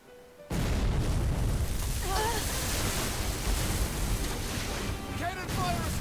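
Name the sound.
pirate cannon fire at sea in video game Tales of Berseria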